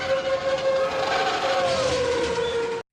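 A train in an animated Oliver & Company film scene rushes past with a loud rumble and a sliding whistle-like tone that drops in pitch, then cuts abruptly to silence near the end.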